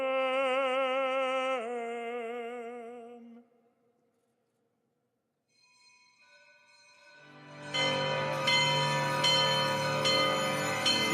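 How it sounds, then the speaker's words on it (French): Church bells of Saint Peter's Basilica in Rome ring out for Christmas at midnight mass. A sustained chanted tone comes first, then a pause of near silence, then loud, bright, repeated bell strikes that fill the last few seconds. "Les cloches de la basilique résonnent pour marquer la joie de Noël."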